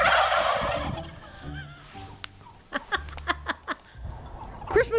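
Farm turkeys, likely toms, burst into a chorus of sharp shock gobbles: several quick, loud gobbling bursts ripple in succession after some barnyard rustling and low background noise.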